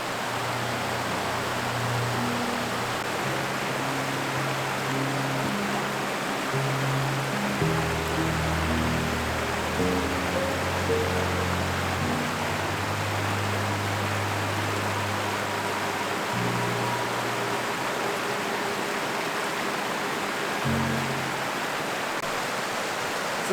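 Fast-flowing shallow river water rushes in a continuous broadband roar during a river crossing in the Cairngorms, steady and close throughout, with a low hum drifting underneath.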